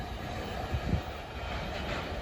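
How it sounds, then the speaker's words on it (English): The CSX I-008 freight train rolls past at Bayview Road in Blasdell, New York, a steady broad rumble with a couple of heavier wheel thumps in the middle, continuous and fairly close. "symbol on this train is CSX I-008"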